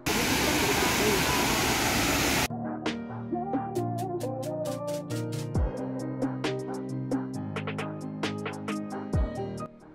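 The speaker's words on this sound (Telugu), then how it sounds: "మొత్తానికి 3 కిలోమీటర్ల తర్వాత మనం వాటర్ ఫాల్స్ దగ్గరికి అయితే వచ్చేసాం." A loud roaring rush of a waterfall on a trip to Coorg, Karnataka, dense and close for about two seconds before it cuts abruptly to quieter, different sounds.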